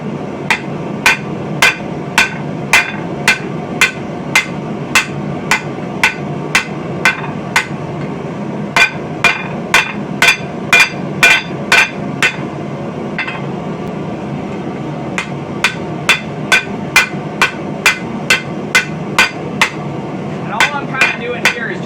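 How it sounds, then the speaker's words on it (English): Steady, ringing metallic radius hammer blows dish steel around the inside edge of a dishing tool in a brisk, even rhythm, pausing briefly once before the pounding resumes, loud and close. "switch over to using your other radius hammer to kind of smooth out the depressions"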